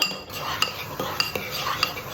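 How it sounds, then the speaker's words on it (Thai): A utensil stirs a bowl of egg and blended apple batter for pancakes, producing repeated light scraping and clinking strokes against the bowl in an irregular rhythm, close and moderately quiet. "คนให้เข้ากัน"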